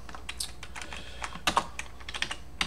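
Someone types code on a computer keyboard, producing irregular bursts of close, crisp key clicks with a few louder strikes and no speech.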